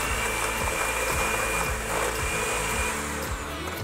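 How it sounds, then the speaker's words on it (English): Softened butter and sugar being mixed, likely with an electric mixer, producing a steady loud whirring motor drone with rhythmic low pulses, continuous throughout and without speech. "we're going to mix these two together"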